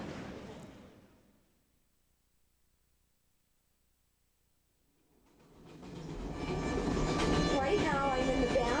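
Inside a train bathroom on the way to Shanghai, the ride starts quiet, then the rumble and rattle of the moving carriage swells up loud and stays steady to the end.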